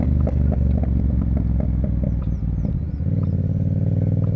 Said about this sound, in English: this flipping bike sounds mental with an exhaust